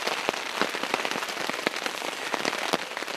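Steady rain drums on a camping tarp during spring backpacking, a dense close hiss broken by frequent sharp, heavier drops landing irregularly.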